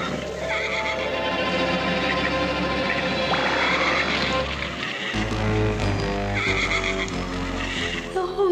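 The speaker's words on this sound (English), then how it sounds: "Maybe their neighing will wake her at last." Horses whinny and neigh over a dense, layered background of hoofbeats and rumbling, the calls rising and falling loudly throughout.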